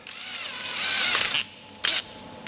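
A power drill briefly spins a length of wire gripped in its chuck, giving a rising whine, then a second short whir after a pause.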